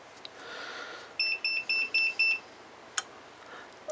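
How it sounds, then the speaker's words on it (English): During reassembly of a Makita 5621 sheet wood saw, a series of five short, evenly spaced electronic beeps sounds at moderate volume over quiet room tone, followed by a couple of faint clicks. "I don't know why that's beeping."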